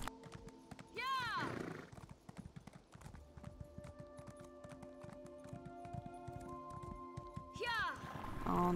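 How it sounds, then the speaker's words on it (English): Horse hooves clip-clop in The Elder Scrolls Online, a steady rhythmic trot with a whinny near the start and another toward the end, over a continuous game music bed. "This is my horse. My horse is amazing."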